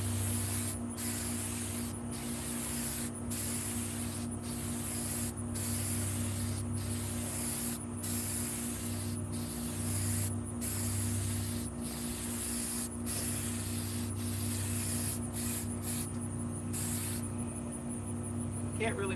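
Spray paint hissing from a can across an RC course, repeated bursts of steady spraying separated by short gaps, close and loud over a constant low hum.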